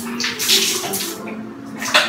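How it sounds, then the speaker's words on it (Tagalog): Water running steadily into a container indoors, a continuous broadband splash and gush with small swells in flow, heard up close with no talking. "Ito, lalagyan ko ng tubig."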